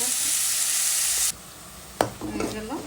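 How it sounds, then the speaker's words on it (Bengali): Onion, ginger and garlic hit a hot pan: a loud bright sizzle cuts off abruptly, then a sharp clank and softer sizzling with stirring scrapes, close up, with no talk. "পেঁয়াজটা বাজা দিয়ে দিলাম আদা রসুন"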